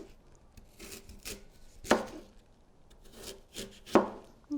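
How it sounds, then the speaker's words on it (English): A knife cuts through an apple onto a cutting board up close, with two sharp solid thuds and some softer slicing and scraping sounds around them. "I'm just going to quarter the apple"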